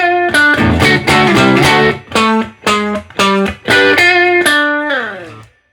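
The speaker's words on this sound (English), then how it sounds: "it's a power chord with a distant 10th, or major 3rd up an octave" Heavily distorted electric guitar power chords with an added tenth (major third up an octave) ring out loud and sustained, struck in a series with short pauses, the last one left to fade.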